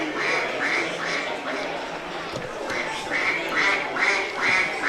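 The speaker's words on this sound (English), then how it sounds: "the duck noises are ringing out across the public address system" Repeated duck quacks blare through a cricket ground's loudspeaker at a T20 Blast match, Worcestershire Rapids vs Glamorgan, several in a row with a short gap midway, over the steady murmur of a large outdoor crowd.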